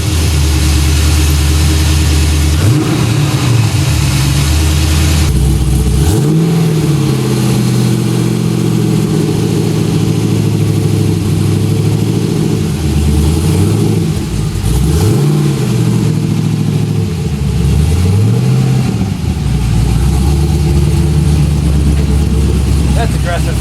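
LS-swapped Mazda FD RX-7 engine on a dyno, a loud V8 idle broken by several sharp revs that rise and fall in repeated swells, with people talking in the background.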